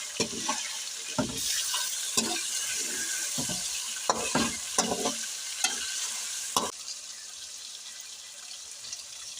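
Chicken frying in a pan and stirred with a spoon, a steady close sizzle broken by about ten sharp scraping stirs, then the frying continues alone and slightly quieter.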